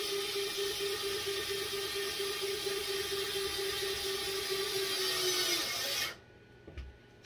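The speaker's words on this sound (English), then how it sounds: "Screw that right in." Cordless drill driving a short screw into a composite cabinet door: a steady close whirring buzz with a high whine for about six seconds that cuts off abruptly, then a couple of faint clicks.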